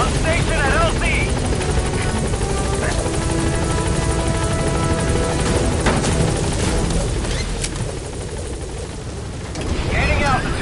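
In Metal Gear Solid V, a helicopter lands at a landing zone and then lifts off, its heavy rotor roar loud and constant throughout, with radio voices and brief game effects on top.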